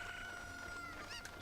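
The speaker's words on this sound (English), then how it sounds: "Oh no, the cuckoos have flown away. Oh man, we gotta help bring back the chickens." Cucco chickens cluck in the video game The Legend of Zelda: Ocarina of Time, with short, faint, repeated clucking calls over a soft steady background. There is no talking.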